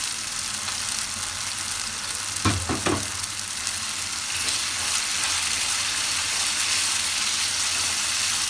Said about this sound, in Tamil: அந்த தயிரை உள்ள சேர்த்துக்கலாம்.